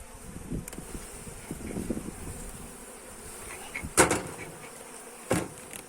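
Honeybees hum steadily in an opened hive during cold weather, a close continuous buzzing with a few louder knocks and scrapes from handling the frames, no voices.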